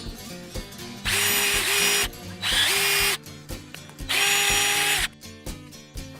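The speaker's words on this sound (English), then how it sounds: "we're gonna drill a hole through it" A power drill bores a hole through a part for a scissor-style bolted assembly, three loud high-pitched bursts of about a second each separated by short pauses, with light handling noise between them and no talk.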